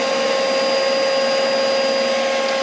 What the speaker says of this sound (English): Okay, so extractor on.